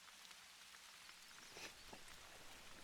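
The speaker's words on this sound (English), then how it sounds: "Oh yeah, it's raining." Rain falls in the Hunter: Call of the Wild hunting game, a steady, even hiss of drops with faint patter throughout and no voices.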